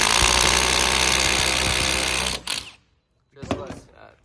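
A loud, continuous rattling impact drill with a cone drill bit grinds for about two seconds, then stops abruptly, followed by a couple of short clattering bursts.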